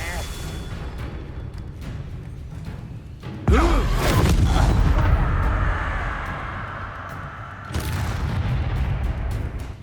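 A Confringo fire spell blasts in a Hogwarts Legacy duel with a sudden loud boom, then a long roaring, crackling rumble that fades before a second burst. A voice speaks underneath.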